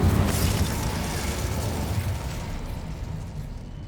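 Incendio fire spell cast in Hogwarts Legacy: a loud low whooshing blast opens, then a roaring rumble that slowly fades over a few seconds, with no talk.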